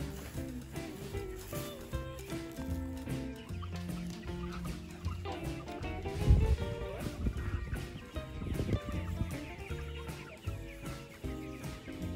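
Free-range chickens cluck continuously in a flock on a farm, a dense layered chorus of clucks and squawks at moderate distance with some heavier knocks mid-way.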